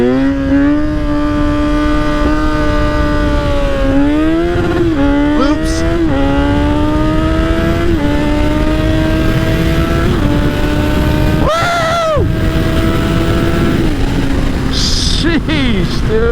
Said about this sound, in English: You guys want to see a first gear freaking floor it wheelie